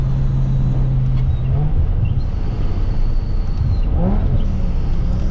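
A supercharged V10 BMW M5 with about 650 hp revs while driving, a steady loud engine drone with rising and falling pitch sweeps and supercharger whine, heavy wind rush throughout, no talk.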